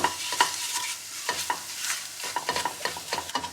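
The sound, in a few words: stirring flour and chopped garlic in butter in a pan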